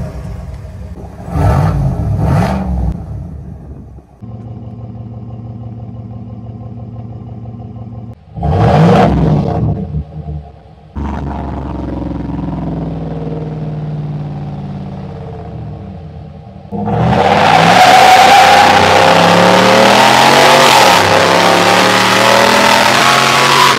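The exhaust of a 2024 GMC AT4 half-ton pickup, heard from a microphone between the two exhaust systems: a couple of short, sharp revs over a steady idle, then a long, loud, sustained rumbling drive.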